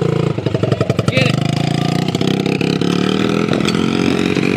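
A three-wheeler engine revs loudly and steadily at close range, with throttle surges near the start and a sustained rough drone throughout.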